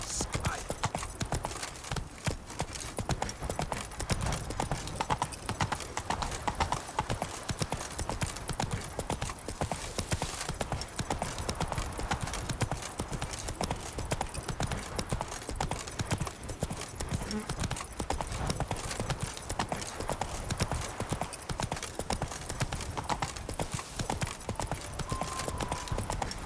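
Roach, the horse in The Witcher 3: Blood and Wine, gallops with steady clip-clop hoofbeats throughout, set against a busy in-game soundscape that keeps a dense wash of sound under the hooves from start to finish.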